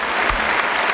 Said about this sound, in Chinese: 我哋用热烈掌声欢迎我哋一路都冇变陪住星光大道一路成长嘅评判，包括有张佳添、